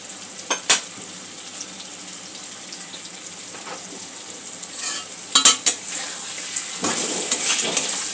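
Masala with boneless chicken stirred and fried in a pan with a little water for chicken jalfrezi: a steady close sizzle broken by sharp scrapes and clinks of a spoon against the pan, louder toward the end.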